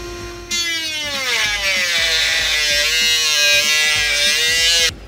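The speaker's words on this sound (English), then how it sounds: "to save time, we're gonna be using a rotary tool." A rotary tool cuts through thick plastic for a 2015 Chevrolet Silverado bed rack, a sharp high buzzing whine that starts abruptly, holds steady with slight pitch dips for several seconds, then cuts off, loud and close.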